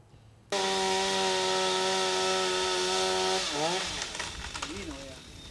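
A chainsaw cuts into a tree in a town neighbourhood, starting abruptly as a loud, steady high whine that later dips and bogs as the blade bites into the wood.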